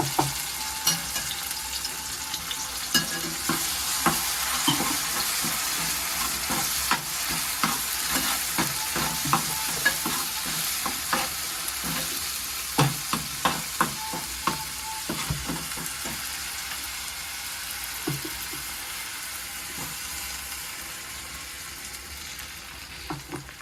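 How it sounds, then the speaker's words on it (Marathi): Ground masala paste fries with browned onions in a pan for a fish curry, giving a steady close sizzle broken by frequent sharp scraping stir strokes in an irregular rhythm, with no voices. "कांदा मस्त करपाला आलाय थोडं गॅस कमी करूया वाटण टाकूया"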